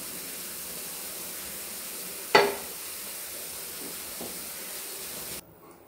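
Paniyaram made from green gram batter cooking in a pan on low flame, giving a soft continuous hiss and faint sizzle, with one sharp burst of sizzle partway through as a dumpling is turned, then a sudden drop near the end.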